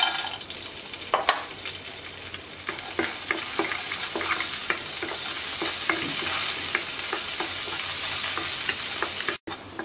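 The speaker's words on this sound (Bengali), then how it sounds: "কিশমিশ আর কাজুটা হালকা ভেজে নেব।" Raisins and cashews fry in ghee in a kadai, giving a steady crackling sizzle throughout with repeated light clicks of stirring against the pan, close and fairly loud.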